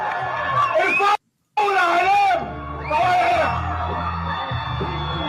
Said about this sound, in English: Look how the crowds are cheering